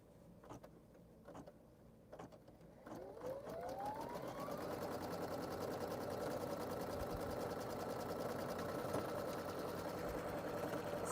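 Sewing machine running steadily while stitching a striped quilted wallet, a loud continuous motor whir and needle chatter that starts after a few short bursts and rises in pitch as it speeds up.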